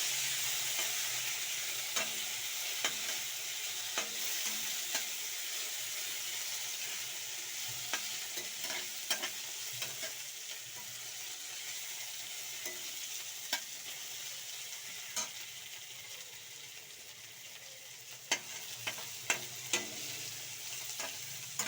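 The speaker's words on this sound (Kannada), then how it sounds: "ಕಟ್ ಮಾಡ್ಕೊಂಡಿರೋಂಥ ಕೊತ್ತಂಬರಿ ಪುದೀನ ಕರಿಬೇವು ಇದರಲ್ಲಿ ಆ್ಯಡ್ ಮಾಡ್ಕೊಳ್ಳಿ ನೋಡಿ ಎಲ್ಲ ಒಂದು ಸಲ ಮಿಕ್ಸ್ ಮಾಡ್ಕೊಳ್ಳಿ ಈ ರೀತಿ" Chopped coriander, mint and curry leaves stirred into mushroom chilli frying in a pan, giving a steady sizzle under repeated light scraping and clicking stirs, close and alone with no talk.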